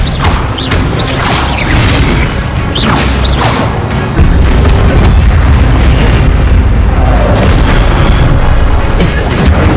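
Spell explosions during a Hogwarts Legacy duel, a loud barrage of booming blasts and crashing impacts with whooshing sweeps, continuing in a dense, heavy rumble.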